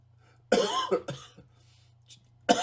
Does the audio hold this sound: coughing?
yes